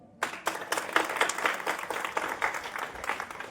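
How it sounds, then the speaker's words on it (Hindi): A village crowd gathered for a religious procession in Muzaffarnagar, India bursts into loud, rhythmic clapping that starts abruptly and continues steadily for a few seconds. "सबसे पहले तो आप अपने लिए जोरदार ताली बजाइए सब।"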